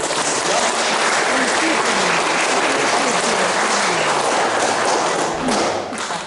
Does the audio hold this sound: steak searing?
no